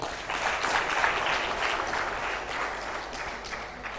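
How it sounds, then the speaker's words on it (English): An audience applauding at a talk, steady even clapping from a crowd that holds for several seconds at moderate volume, with no other sound over it. "I did not ask you to clap."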